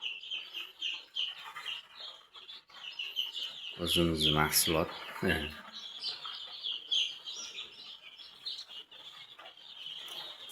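Dense, high chirping of many small chicks runs throughout, with a brief stretch of close talking in the middle.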